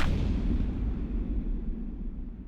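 A single loud gunshot in a martial-arts film scene set in Foshan, a sharp blast at the start that rolls into a long, heavy low rumble fading slowly over a couple of seconds, with no talk.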